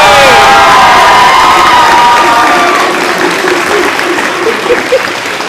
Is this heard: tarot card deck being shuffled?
no